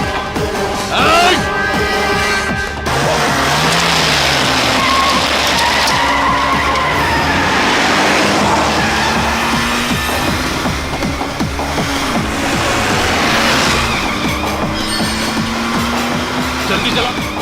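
A car speeds off with loud, drawn-out tire squeals and skidding over a revving engine, the screech carrying through most of the stretch while a voice shouts urgently over it.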